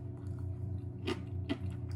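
Crisp crunching of crunchy Korean side dishes being chewed close up, with two distinct bites standing out over a low, steady background hum.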